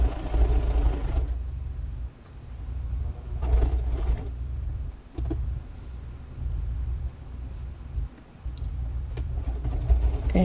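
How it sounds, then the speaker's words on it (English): A sewing machine runs a zigzag stitch around a trimmed quilted bag panel, giving a low mechanical whirring hum in bursts with short pauses and faint clicks between runs. "I'm just doing a zigzag stitch around the whole entire panel after I've trimmed it all down."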